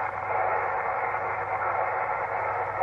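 Shannon VOLMET aviation weather radio broadcast received on a MiniWhip antenna, a steady band of shortwave static and hiss with a faint, muffled transmission underneath.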